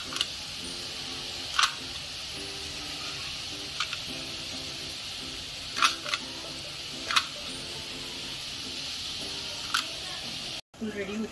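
Murukku made from rice flour dough fries in hot oil with a constant bubbling hiss, broken by a few sharp pops and ticks now and then.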